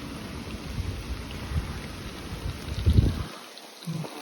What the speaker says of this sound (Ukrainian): Гримить, дощ посилюється.